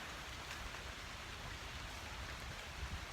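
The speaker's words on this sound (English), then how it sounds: "Rain's starting to get a little heavier." Rain falling steadily on trees and ground at an autumn arboretum, a faint, even hiss of many drops with occasional louder patters, continuous and without any voices.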